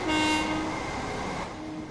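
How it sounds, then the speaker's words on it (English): A train horn sounds in Train Sim World 2020, a loud sustained two-tone blast that holds steady and then fades slightly, with no voices. "do you know why the low horn's louder than the high horn externally?"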